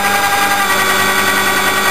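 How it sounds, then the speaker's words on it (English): An electric drill spins a small motor in an MPPT controller test rig, running at a fixed speed: a steady, close, continuous whining drone with no change in pitch or level. "as you can hear from the drill"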